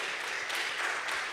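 An audience claps at a political campaign panel event, a brief, steady wash of applause heard from the room without voices over it.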